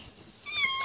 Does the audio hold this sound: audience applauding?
no